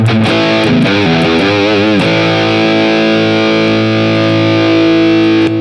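Electric guitar played through a NUX MG-30 Soldano high-gain amp model, loud saturated distortion with fast bent and vibrato notes early on, then a long sustained ringing chord fading slowly, no voices.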